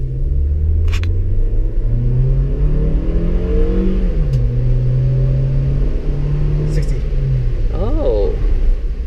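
A Perodua Aruz SUV engine revs hard under full throttle, a loud steady drone rising in pitch, dipping briefly at a shift, then climbing again near the listener for about nine seconds.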